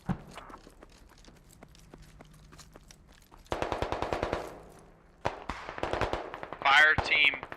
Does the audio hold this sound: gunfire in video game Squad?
yes